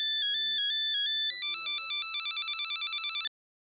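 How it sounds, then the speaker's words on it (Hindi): A bright electronic mobile phone ringtone repeats a quick melodic pattern in a classroom, with faint voices beneath at first, before cutting off abruptly near the end. "मोबाइल की रिंग बजी तब आप जागे"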